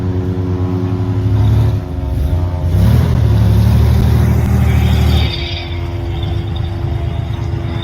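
The engine of a light beige 1971 Jeep Jeepster Commando with the original Dauntless V6 runs close by, a steady loud rumble that swells into a rev around the middle and then settles back to a lower idle.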